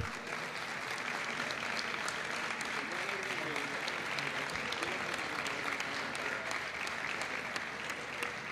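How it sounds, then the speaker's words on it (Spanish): Conference audience applauding a speaker, a dense, steady wash of clapping hands that holds at full strength throughout without pause. "a Eduardo Arcos con un fuerte aplauso exclusivamente para él."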